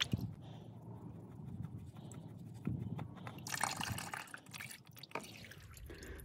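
Motor oil drains from a Volkswagen Golf 7 1.5 TSI during an oil change, dripping and trickling steadily, with scattered clicks and knocks of work nearby.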